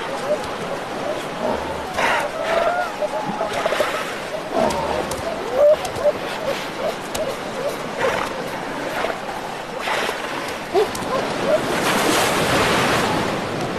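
Sea waves wash and surge against rocks jutting into the ocean, a rough, continuous roar with wind buffeting the microphone and swelling louder toward the end; a voice speaks over it.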